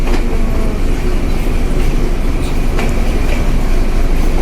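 A train rolls steadily past a level crossing gate, a loud, close, continuous rumble with rhythmic wheel clatter and faint metallic squeals, no voices.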